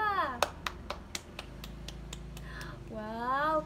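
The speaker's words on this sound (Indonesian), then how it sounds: "Beri tepuk tangan untuk kelompok 2." Classroom applause for a student group arrives as a string of about nine evenly spaced, sharp claps in a steady rhythm, with a voice speaking just before and after.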